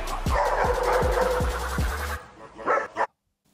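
A stressed dog pulling forward on a leash barks in a rapid series of about five loud, close barks, followed by a couple of softer yelps or whines before falling quiet.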